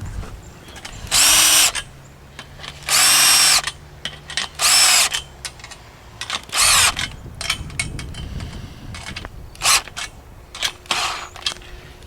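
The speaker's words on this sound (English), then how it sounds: "Now I'll come by and tighten up the top ones." Power drill tightening nuts on a trampoline enclosure, with several loud, short whirring bursts separated by pauses, plus clicks and handling noises in between.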